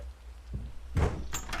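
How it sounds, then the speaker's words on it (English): A door thuds and slides open with a short whooshing rush in the horror game Iblis 3 Phenomena, heard alone and fairly close. "Oh, door opens."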